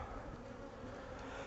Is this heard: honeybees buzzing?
yes